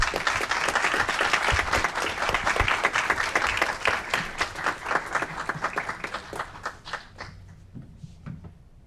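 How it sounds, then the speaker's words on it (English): An audience at an Aurora committee meeting breaks into hearty applause for the youth council, full and steady at first, then thinning to scattered claps as it dies away. "Let's give them another round of applause."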